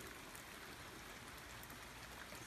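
Steady rain falling outdoors during a homebrew day, a dense, even hiss of drops with no pauses and no voices.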